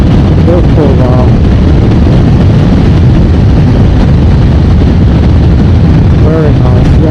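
A Yamaha XJ600 motorcycle accelerates along the road, its engine a loud, continuous roar buried in heavy wind buffeting on the microphone, with a brief rising whine of the revs near the start and again at the end.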